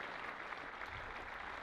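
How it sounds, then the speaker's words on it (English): Football stadium crowd at an Alloa versus Ayr United match joining in a minute's applause, a steady distant wash of clapping filling the ground. "both teams observing a minute's applause for one of their own"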